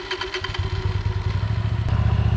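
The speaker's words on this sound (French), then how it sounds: "Pour la démarrer, il faut appuyer sur l'embrayage et sur le bouton de démarrage." A Hyosung Aquila 125 Bobber motorcycle engine catches after a brief starter clatter and settles into a steady, close, throbbing idle.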